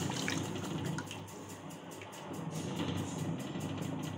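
Tamarind water mixed with curry powder and salt being poured into a pan for a kuzhambu, a steady trickling liquid pour close by, fairly quiet and continuous.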